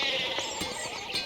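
Sheep bleat in the medieval adventure game Pentiment. A short burst of wavering bleats is heard close by, over a steady ambient background.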